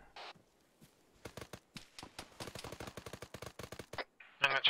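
Bursts of automatic gunfire in an Arma military shooter on the tropical island map Tanoa, rapid cracking shots in irregular volleys with short pauses, fairly close and loud, ending in a sharper burst.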